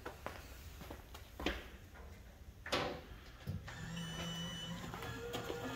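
Maxim 64800 six-slot pull tab dispenser with bill acceptor, 115-volt, powering up after being plugged in: faint clicks and mechanical clunks, then a steady motorized whir with a thin tonal hum.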